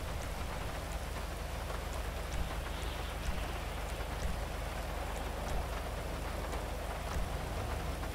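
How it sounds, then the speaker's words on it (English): Steady rain drumming on a vehicle in a video game, heard from inside the cab as a dense, muffled patter with occasional louder drops, fairly constant throughout. "I love how much quieter it gets in the rain when you get in the vehicle."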